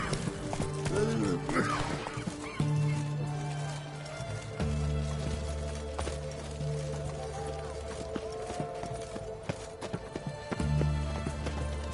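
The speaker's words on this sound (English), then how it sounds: "Whoa there, Roach." In The Witcher 3: Hearts of Stone, the horse Roach gallops with a steady, close clip-clop of hooves, with brief snorts and game music droning underneath.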